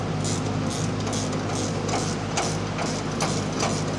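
Nuts being snugged down on the pivot points of a tractor's rear three point linkage during installation of a lever on a 15 series ROPS, giving soft repeated ratcheting clicks over a steady, loud mechanical hum.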